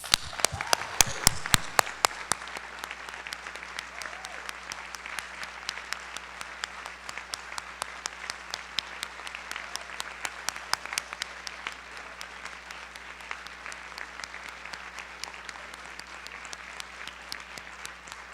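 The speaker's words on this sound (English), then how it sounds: "let's give them a big round of applause" An audience at the MoveUP Convention 2024 gives the finance and membership team a long round of applause, starting with a burst of loud nearby claps and then settling into a steady, fainter crowd clapping for nearly twenty seconds.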